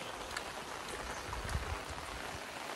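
Heavy monsoon rain pours down in the Konkan countryside as a dense, continuous hiss, with patter and splashes close by and no voices.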